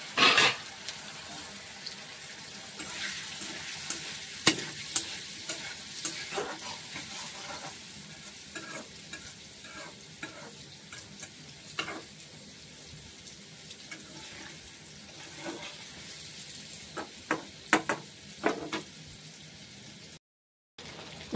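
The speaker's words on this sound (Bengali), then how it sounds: "তেল দিয়ে দিলাম, লবণ আর হলদি পাউডার দিয়ে ফ্রাই করে নিচ্ছি পনিরগুলো।" Paneer pieces sizzle and fry in hot oil with salt and turmeric, a steady close crackle broken by frequent clinks and scrapes of a spatula stirring the pan, with no talking.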